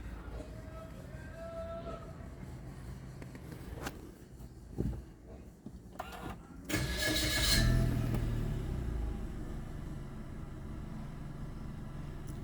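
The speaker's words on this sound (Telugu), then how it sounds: "సో వెహికల్ స్టార్ట్ చేస్తున్నా." A used Maruti Baleno Zeta automatic with keyless entry, around 70,000 km on it, is started by push button in a showroom lot. Faint voices come first, then the engine cranks briefly, catches with a burst, and settles into a steady, close idle.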